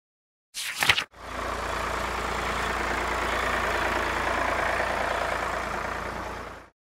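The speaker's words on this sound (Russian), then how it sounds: "Трактор." A tractor engine starts with a brief rough burst, then settles into a steady, loud, broadband running rumble that holds evenly for several seconds before cutting off, with no talk.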